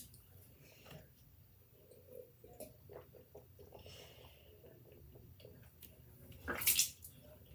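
Water swished around inside a mouth and spat out a few times during a bathroom bedtime routine, with wet sloshing and a short, louder splashing burst near the end; no talking.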